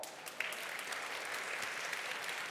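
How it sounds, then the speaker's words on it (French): An audience claps through a pastry master class at a Paris pastry fair. The applause is steady and sustained, heard from within the room, with no voices over it. "Applaudissements."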